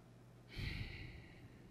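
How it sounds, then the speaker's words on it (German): A breathy snort blown straight into the microphone, one sudden close puff that fades over about a second against a quiet background. "Schnauft ans Mikrofon."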